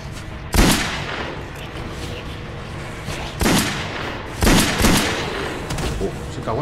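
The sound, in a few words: gunfire in the video game Silent Hill Homecoming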